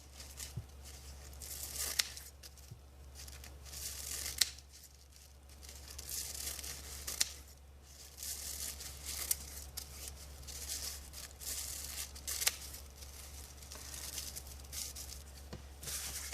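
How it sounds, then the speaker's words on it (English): Tissue paper is gently scrunched and pulled apart for a strawberry basket craft. The crinkles and tearing rustles repeat close up over a steady low hum, with no talking. "Just gently scrunch and then pull it apart."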